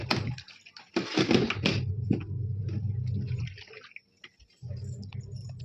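A washing machine hums steadily as water rushes and splashes inside it, with a loud burst of sloshing near the start.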